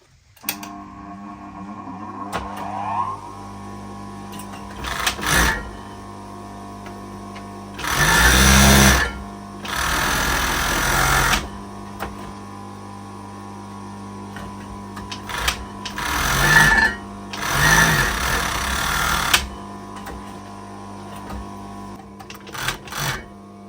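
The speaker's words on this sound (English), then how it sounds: "So I have an industrial overlocker, which is fabulous" Industrial overlocker serging the fabric edges of a handmade makeup bag, whirring in several loud, close bursts of a few seconds each with quiet gaps between them and no talking.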